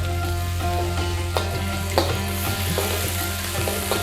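Chicken and vegetables for a restaurant-style rezala stir-fry over high heat, a steady loud sizzle running throughout with scattered scraping clicks from the spatula in the pan and no talking.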